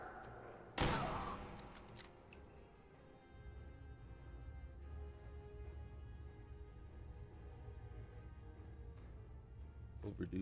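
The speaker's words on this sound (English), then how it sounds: "Ow, stop shooting me." Gunfire from enemies in Fallout 4 sounds faint and distant, with one sharp crack near the start and scattered bursts under quiet talk.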